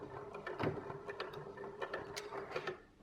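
A sewing machine runs in reverse to backstitch fabric for a hat crown, giving close, quiet mechanical whirring and clattering in short uneven bursts that fade out at the end.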